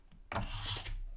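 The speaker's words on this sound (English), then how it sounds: "So for this I'm going to use the charcoal and the putty rubber." Charcoal scrapes and rubs across drawing paper alongside a putty rubber, a close, dry rasping stroke that starts abruptly and continues steadily for under a second, quiet overall, with no talk.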